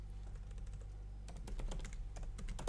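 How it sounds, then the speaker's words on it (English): Fingers tap on a computer keyboard while writing in screenwriting software, starting with sparse keystrokes and breaking into a quicker, denser run of close clicks over a low background hum. "you're just basically going to type right in the editor"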